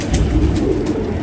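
A pigeon coos steadily in a loft of show pigeons, its low, continuous murmur close and fairly loud against a dense background of other birds, with no talking.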